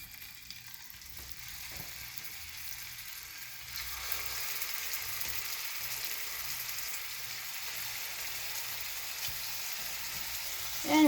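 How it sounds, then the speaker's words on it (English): Steady sizzling of Italian meatballs frying in oil in a non-stick copper pan, growing louder partway through and continuing without pause, with no voices. "let's start frying"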